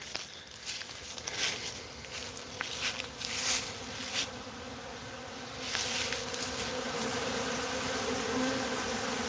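Honey bees buzzing around an Apis Biologics open feeder outdoors, a continuous dense hum of many insects close by, with individual bees swelling louder as they pass near.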